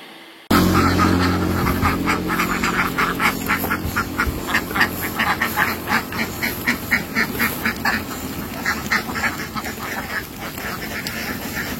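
Ducks swimming in a river quack steadily in a rapid, rhythmic chorus close by, the calls overlapping continuously over a constant outdoor background hiss.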